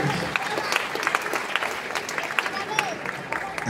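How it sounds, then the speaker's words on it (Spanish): Audience applause at a sports mass ceremony, steady dense clapping throughout with scattered sharper claps, a voice speaking over it. "Quiero un fuerte aplauso para su señor padre, Albert"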